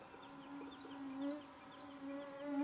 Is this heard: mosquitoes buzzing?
yes